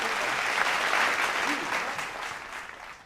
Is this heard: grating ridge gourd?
no